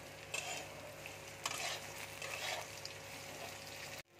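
Eggplant frying in mustard oil, a steady hiss and sizzle with a spoon stirring in intermittent scraping bursts, close and moderately quiet, ending abruptly.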